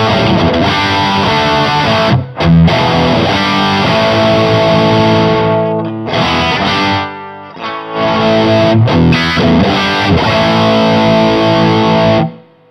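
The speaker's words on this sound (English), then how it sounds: "So that's what we'd call the crunch setting, perhaps." Electric guitar through a Twin Unicorn dual-channel distortion pedal on its crunchy, low-gain setting plays chords and riffs, loud and close, with a few brief pauses between phrases.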